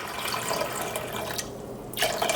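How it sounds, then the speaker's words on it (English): Fresh water is poured from a tap or jug over drained dried beans in a cooking pot, a steady near splashing stream that briefly breaks off and resumes, with no speech. "So drain your beans and pour in enough fresh water"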